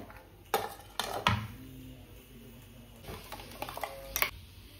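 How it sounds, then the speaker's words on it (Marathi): Surmai fish pieces being mixed with thick green masala paste in a bowl, a few close knocks and scrapes of a spoon or hand against the dish with wet squelching movement between, fairly quiet and without talk. "आता छानपैकी आपण फिशला मिक्स करून घेऊया।"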